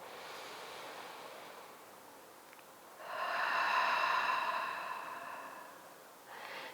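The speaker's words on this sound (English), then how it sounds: "Exhale out the mouth." A long, soft breath exhales out through the mouth, swelling into a close airy rush and fading, with another breath starting at the end, during a vinyasa yoga practice.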